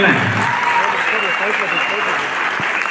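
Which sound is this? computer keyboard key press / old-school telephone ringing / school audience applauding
school audience applauding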